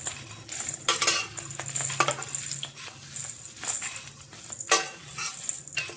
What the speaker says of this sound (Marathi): मी या बाउलमध्ये काढून घेत आहे।